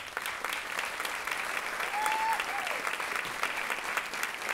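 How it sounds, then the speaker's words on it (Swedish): A theatre audience applauds at a fundraising concert in Växjö, a dense, steady round of clapping from many hands heard at a moderate distance, with a brief whistle-like tone partway through. "Jag tycker vi ger dem en extra varm applåd."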